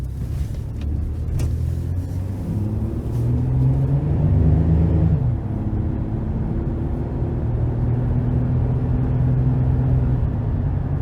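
A 2009 Chevrolet Silverado 1500 regular cab work truck with a 4.3 liter V6, heard from inside while driving: steady low engine drone rising and falling with gear changes, continuous and moderately loud.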